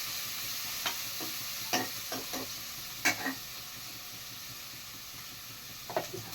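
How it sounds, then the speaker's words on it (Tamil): Tomato and onion fry in a pan with a steady soft sizzle and hiss, while a spoon scrapes and taps against the pan in scattered clicks. The sound is fairly quiet and close, with no talking. "தக்காளி வெங்காயம் நல்லா வெந்துருச்சு பாருங்க கோல்டன் கலரில் வெந்துருச்சு"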